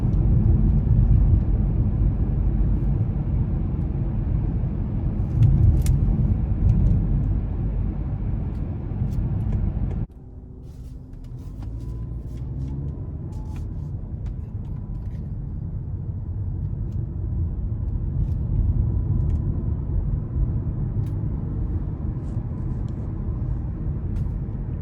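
Inside the cabin of a 2020 Lincoln MKZ 2.0 on the move: a steady low road and engine rumble, muted and even, dipping briefly partway through before settling back, with no voices.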